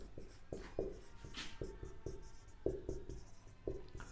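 Pen or chalk writing out a maths solution for differential equations, a series of short scratchy strokes and taps in an irregular rhythm, close and fairly quiet with no speech.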